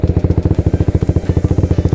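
Suzuki Satria F150 motorcycle idling through a Tridente V2 three-mode aftermarket exhaust, a loud, close, steady rapid thumping pulse with a slightly crackly edge and no talk over it.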